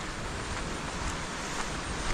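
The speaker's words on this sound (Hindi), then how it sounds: "हाँ हवा चल रहा है" Strong cyclone winds roar across a beach on Great Nicobar during Cyclone Mocha, a loud, continuous broadband rush mixed with surf, steady throughout and with no talking.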